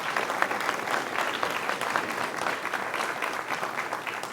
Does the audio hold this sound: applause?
yes